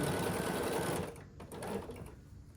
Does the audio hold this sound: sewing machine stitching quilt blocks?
yes